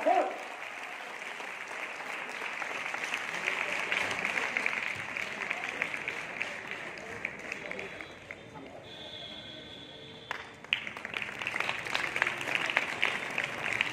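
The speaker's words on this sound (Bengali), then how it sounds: "পীযূষের জন্য আরেকটা করতালি" Sustained applause from an audience at a school drill competition prize-giving ceremony, steady clapping over about fourteen seconds with a speaker's voice carrying over it and crowd murmur underneath.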